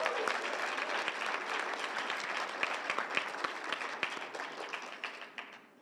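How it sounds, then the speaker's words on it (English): Audience applause at a literary review reading and launch party, many hands clapping in a dense, continuous patter that tapers off over the final second. "So if everyone wants to give a round of applause to that."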